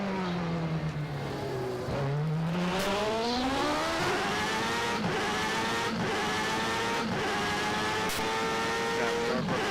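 Race car engine in a 1994 French Grand Prix racing video game, loud whining revs dropping sharply under hard braking, then climbing through gears with quick shift dips, continuous and close.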